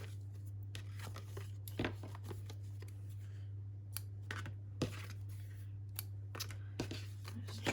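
Scissors snip off loose thread ends on a junk-journal collage tag, a series of quiet, crisp cuts and rustles spaced irregularly over a steady low hum, with no talking.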